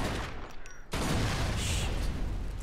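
Gunshots aimed at the tires of a wrecked red car in Mafia II, a sudden loud blast that breaks into sustained roaring noise, close and dominant.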